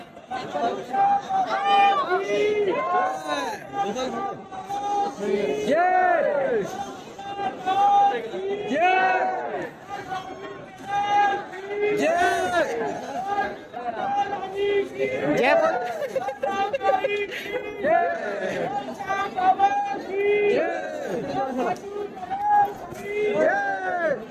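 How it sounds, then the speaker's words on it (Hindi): A dense crowd of devotees packs the Khatu Shyam temple, a loud constant babble of many voices with shouts rising and falling close by, while a nearby person keeps talking. "एकदम से अचानक भीड़ हो गई मतलब भीड़ क्या इकट्ठी हो गई"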